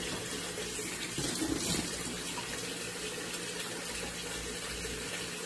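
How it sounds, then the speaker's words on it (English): Tap water runs steadily into a kitchen sink while someone washes their face, with brief splashing near the middle and no talking. "dito na tayo maghilamos."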